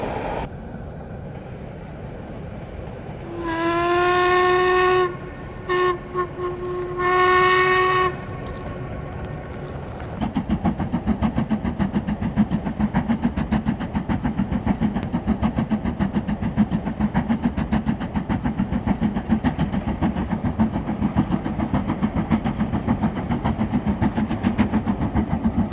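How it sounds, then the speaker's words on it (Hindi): A steam locomotive train rolls in across an arch bridge in Scotland, its horn sounding in several long harmonic blasts, then a steady loud rhythmic clatter of wheels and carriages continues close by with no talk. "ये जी ट्रेन वहाँ से, and it's coming in. Steam engine की ट्रेन है।"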